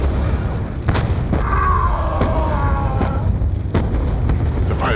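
Mortar fire explosions in a Call of Duty war game, a dense, loud battlefield roar with repeated deep booms and thuds and whistling tones layered over it, without speech.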